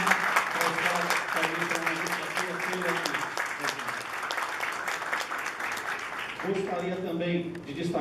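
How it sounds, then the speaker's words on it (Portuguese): An audience at a trophy presentation in a lecture hall applauds in a dense, sustained wave of clapping, fairly close, with a voice speaking over the end. "Eu peço a todos uma salva de palmas."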